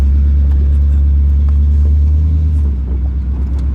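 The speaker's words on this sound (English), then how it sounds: "So here we are in the 64 Studebaker Daytona Convertible on a really nice day." A 1964 Studebaker Daytona convertible with a 259 V8 cruises on the road, its steady low engine rumble and drone filling the cabin, easing slightly near the end, with no talk over it.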